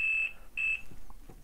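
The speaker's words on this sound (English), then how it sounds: "if I touch things together and there's an electrical connection, it will beep" A multimeter's continuity tester gives two short, steady high-pitched beeps in quick succession, close and clear, with faint handling taps afterward.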